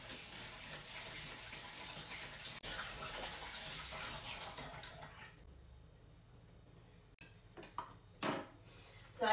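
Peeled kiwi fruit rinsed under a running kitchen tap: a steady, fairly loud rush of water for about five seconds, then it cuts off and a few soft knocks and clatters follow.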